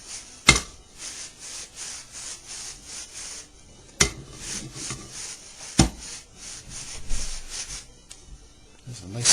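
Gentle scrubbing of a banjo with double-aught steel wool to remove light corrosion, heard as a steady close rubbing hiss in short repeated strokes, broken by a few louder knocks.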